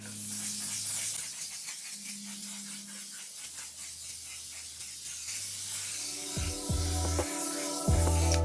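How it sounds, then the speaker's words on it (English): One Size makeup setting spray mists out in soft, airy hissing bursts over a steady low background hum, fairly close and without talk. "we're going to put this One Size setting spray, like to do our final setting spray."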